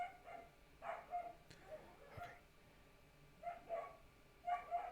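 Dogs wrestling at home bark and yip in short, faint bursts, scattered irregularly and heard from a slight distance.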